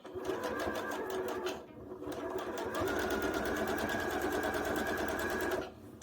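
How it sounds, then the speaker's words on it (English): Sewing machine understitching the boat neckline of a knit tee, running steadily with a fast rapid stitch rhythm, pausing briefly near the second mark and again near the end, close and alone. "So this is the understitch."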